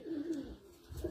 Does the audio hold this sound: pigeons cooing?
yes